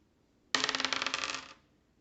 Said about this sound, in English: I think I want to re-roll again on this one